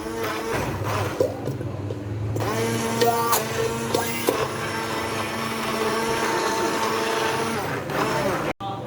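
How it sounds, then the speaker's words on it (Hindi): A hand blender whirs steadily for several seconds, blending lentils, a continuous motor drone with slight shifts in pitch as it works through them. "अब मैं इसमें हैंडी ब्लेंडर से मैं इसको थोड़ा सा ब्लेंड कर लूँगी"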